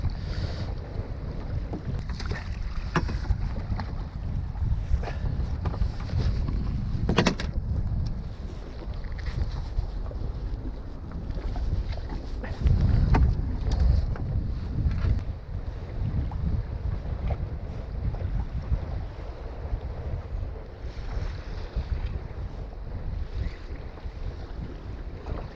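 Strong wind buffets the microphone beside a lake at Farmoor in March during boat fishing, a steady loud roar with gusts rising and falling throughout, and water lapping faintly underneath.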